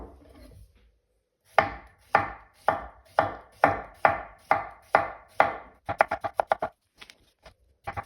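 A knife chops through a cucumber on a cutting board in a steady run of about eight crisp strokes, then speeds into a quicker flurry of lighter taps before trailing off into a few isolated cuts.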